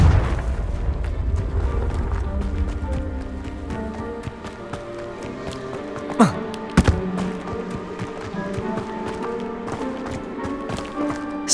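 A Confringo blasting spell goes off in Hogwarts Legacy, with a couple of sharp explosive bursts midway over a steady bed of game music and ambience.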